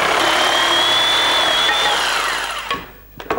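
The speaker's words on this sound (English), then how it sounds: "nip it off with the jigsaw" A jigsaw cuts through a wooden batten with a loud, close, buzzing rasp that holds steady, then winds down and stops with a few clunks.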